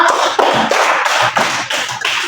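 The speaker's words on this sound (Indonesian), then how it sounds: "Tepuk tangan dulu sekali lagi untuk kita semua." Students in a classroom applauding, dense steady hand clapping close and loud, in a few rhythmic surges for about two seconds, with no talk over it.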